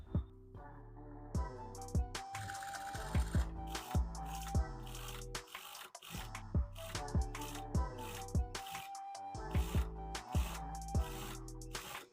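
A sewing machine stitches a lining piece onto blouse thread piping, running in bursts of fast rhythmic whirring with short pauses between runs, close and clear, without talk.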